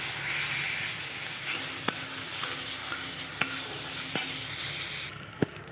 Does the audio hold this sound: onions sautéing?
yes